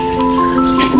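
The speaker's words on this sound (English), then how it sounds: "I might save that toilet flushing sound for the next video." Steady rushing water of a toilet flush, a broad hiss with a faint tonal hum underneath, no voices.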